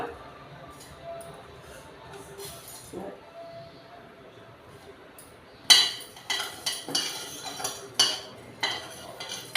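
Two spoons of cumin seeds roast in a pan for spicy peanut powder. A soft, low sizzle gives way to a run of sharp metallic clinks and scrapes as a spoon stirs against the pan, loud and close, in irregular bursts.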